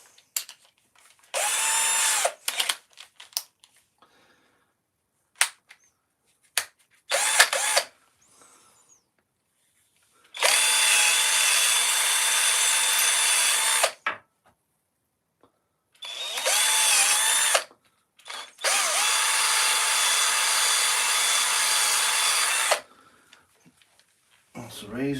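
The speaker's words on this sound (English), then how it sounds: "Let's drill these out a little bit more. Where's my little 5mm drill?" An electric drill with a small 5mm bit whirs in several separate bursts, some short and a few long and steady, with pauses between them.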